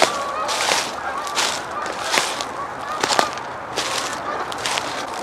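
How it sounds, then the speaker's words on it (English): Geese honk repeatedly and loudly in a noisy, overlapping chorus, calls coming every second or so over outdoor background noise. "Here's some geese."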